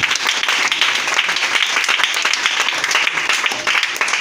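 A church congregation claps and applauds loudly during a worship service to acclaim God, a dense, steady wash of many hands with crowd noise continuing throughout, without pause.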